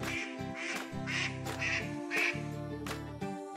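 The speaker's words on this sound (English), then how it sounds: "Call ducks are known for their sweet quacks and lively nature." A call duck, a miniature duck breed, gives a run of loud, close quacks in quick bursts of roughly five or six calls, with no other sounds around them.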